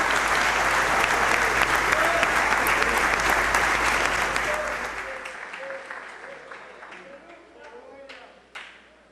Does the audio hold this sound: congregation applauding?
yes